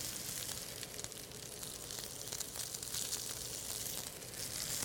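Peppers and onions sautéing in a hot pan give a steady, close, dense sizzle with crackling bursts throughout, no talk over it.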